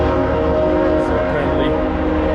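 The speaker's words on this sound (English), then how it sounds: "excuse the loud horn" A passing freight train's loud horn blares continuously over a deep rumble of rolling wagons, close and sustained throughout, with a voice faintly present beneath it.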